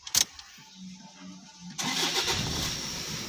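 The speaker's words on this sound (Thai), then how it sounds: "ตัวนี้จะมาทดสอบระบบสตาร์ทให้ดูอย่างเดียวนะครับ" A Toyota Vigo pickup starts after a click and a short cranking whir, then settles into a steady idle that is close and fairly loud.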